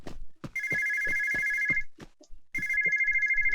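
A telephone rings in the Alexandra Ledermann horse-riding video game, a loud electronic ringtone in two repeated bursts with a short pause between them, heard alone.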